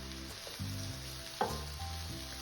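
Zucchini sizzles in olive oil in a frying pan, a steady crackling fry with a brief sharp spatter midway and a low hum running underneath.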